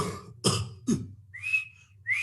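A voice imitates a wheezing breath, giving a few breathy rasps and then two thin, high whistling tones, close and fairly quiet.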